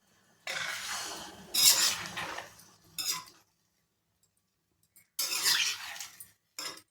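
Metal clatters against a pot of drumstick and salt fish curry as a lid goes on, in a few loud close bursts of clanking separated by short silences.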